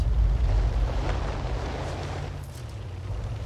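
T92 HMC artillery shell firing in a tank video game, a deep, booming low rumble that starts loud and slowly fades into a long, wind-like decay, with no talking.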